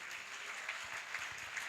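Applause from a Sunday church service congregation: a soft, fairly distant patter of clapping that holds evenly for under two seconds, with a few sharper claps near the front.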